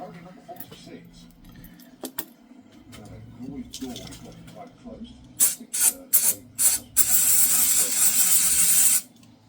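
Several short hissing spray bursts of cleaner through an engine part, then a long continuous spray, following clinks and rattling of metal parts nearby.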